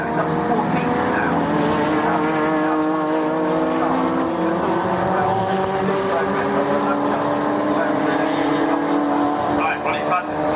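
Sports and saloon cars racing at Oulton Park: a continuous loud engine roar with layered, slowly shifting whine tones as cars pass, heard under a commentator's voice.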